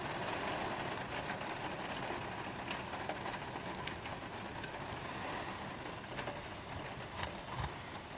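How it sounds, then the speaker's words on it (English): Rain falls steadily outdoors as a dense, even hiss that holds at moderate volume throughout, with a few faint patters and a low rumble underneath and no talking. "It's just rain."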